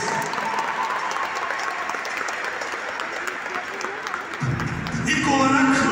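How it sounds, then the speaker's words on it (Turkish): Strong sustained applause from a crowd at a Turkish basketball league championship celebration, steady throughout, with music or amplified sound rising near the end. "tüm takımlarımıza kuvvetli bir alkışla"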